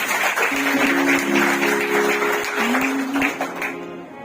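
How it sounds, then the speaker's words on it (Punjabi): An audience applauds three student performers at a college stage event, a steady wash of clapping lasting throughout with a faint sustained musical tone beneath it. "ਇਹਨਾਂ ਦੇ ਨਾਮ ਤੇ ਜ਼ੋਰਦਾਰ ਤਾੜੀਆਂ ਲਗਾ ਦਿੱਤੀਆਂ"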